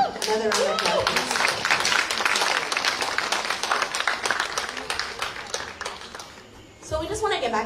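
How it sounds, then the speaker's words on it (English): An audience at a community health panel on AIDS claps in a dense, steady round that slowly thins toward the end, with voices briefly audible at the start and close. "Another round of applause"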